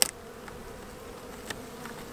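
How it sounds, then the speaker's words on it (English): A steady, low buzzing hum of many honey bees close by on top of a hive in January, continuous and fairly soft, with a sharp click at the very start. "A little bit of bees up here on the top."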